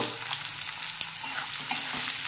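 Onions frying in mustard oil with a little ghee over previously fried potatoes, a steady close sizzle with occasional stirring scrapes throughout.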